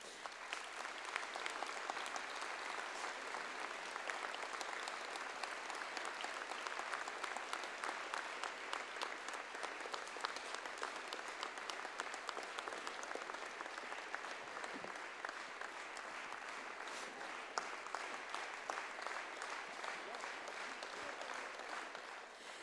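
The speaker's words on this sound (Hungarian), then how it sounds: "kérem és tapssal köszöntsük ismét Miklós Erika operaénekest" Sustained audience applause after a performance at a New Year's wind band concert in Kiskőrös, dense even clapping from a large crowd that continues steadily without a break, heard from a distance.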